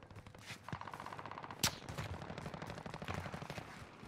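Gunfire in a multiplayer shooter game where a sniper is firing. Faint rattling shots are heard with one sharper crack standing out near the middle, somewhat distant, with no talking.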